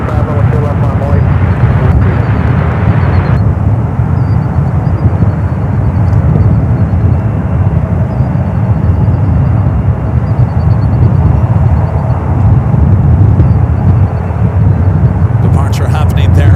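Jet airplane departing runway 28 left at San Francisco airport, a loud steady low roar of engines that continues unbroken throughout, heard at a distance.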